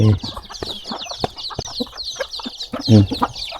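Chickens cluck close by on a rural Thai homestead in the morning: short, choppy clucks and squawks in irregular bursts over quiet surroundings.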